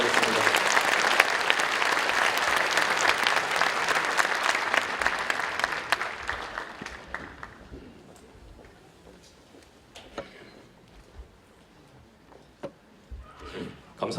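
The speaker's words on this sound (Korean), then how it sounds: "그 박수로 맞이하도록 하겠습니다" A church congregation at a 50th-anniversary thanksgiving service applauds steadily for several seconds, then the clapping fades and a voice speaks over a quieter hall with a few scattered sounds.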